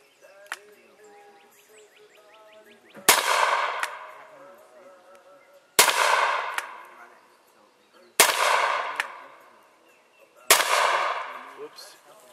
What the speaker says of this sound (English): Gonna do single action first, and then we'll go back and do a double action shooting.